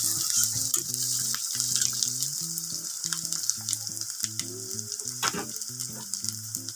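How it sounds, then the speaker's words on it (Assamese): Chopped onions frying to a golden brown in a pan for a chicken curry, a steady close hiss of sizzling oil with scattered crackles and the odd scrape of stirring, over soft background music. "ইয়াত মই পিঁয়াজখিনি ভালকৈ ৰঙচুৱাকৈ ভাজি লৈছোঁ"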